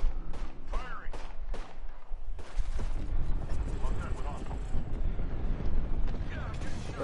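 Bombardment from an airstrike ultimate in the Apex Legends video game: repeated heavy blasts and crackling impacts rumble on loudly while players talk over the barrage.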